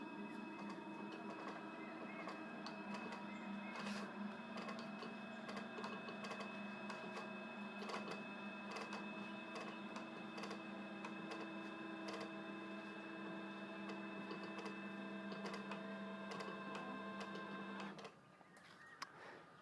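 A large 3D printer's head moves with a steady mechanical whine and tonal motor hum, continuous and close, then cuts off abruptly near the end.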